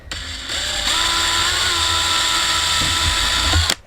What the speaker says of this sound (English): drill a hole ever so slightly back from that